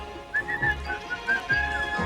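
A person whistles a merry tune in short melodic phrases, clear and fairly close, with music-like accompaniment underneath and no talking.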